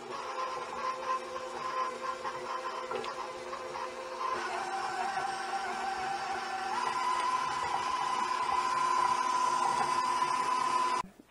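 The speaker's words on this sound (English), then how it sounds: "then you want to beat it so it's like light and fluffy and creamy" An electric hand mixer beats butter for banana bread, whirring steadily at close range with a whine that shifts pitch as the speed changes. It cuts off abruptly at the end, and no one speaks.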